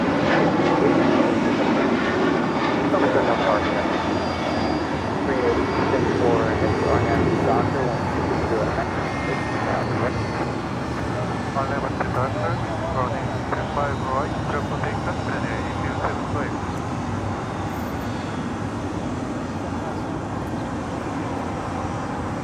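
A Delta Boeing 757-200 arriving from Newark comes in to land at LAX, its engines a steady, loud roar that slowly eases, with voices talking over it throughout.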